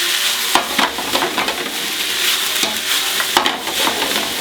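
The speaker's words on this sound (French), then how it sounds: "on essaie de mettre les oignons au fond. Et on les fait suer" Onions sweat in a pan alongside pork for a carrot stew, giving a loud, steady close sizzle with repeated scraping stir strokes across the bottom of the pan.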